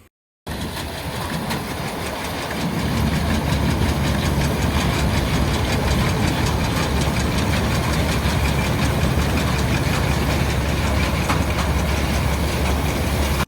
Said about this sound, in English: we can see the Caterpillar D2 driving around the site with the little cart